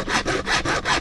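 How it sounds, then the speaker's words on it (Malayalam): A hand saw cuts off a piece of pipe for a DIY pond filter setup, giving three quick rasping back-and-forth strokes, close and rhythmic, with no talking. "ഇതുപോലെ തന്നെ ഒരു പീസ് കൂടെ നമുക്ക് കട്ട് ചെയ്തെടുക്കാം"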